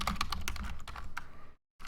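Rapid, uneven typing on a computer keyboard, close and crisp, with a run of clicking keystrokes that stops for a brief silence before resuming.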